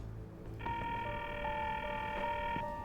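A telephone call placed from an office that fails to connect, sounding as a steady, quiet electronic tone with brief beeps running for a couple of seconds after a short pause.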